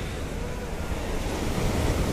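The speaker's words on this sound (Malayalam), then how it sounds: "നല്ല തിരമാല നല്ല രീതിയിൽ തന്നെ അടിക്കുന്നുണ്ട്" Sea waves breaking below Kannur Fort, heard from atop the fort walls as a continuous roaring surf mixed with buffeting wind noise, steady and fairly loud with no talking.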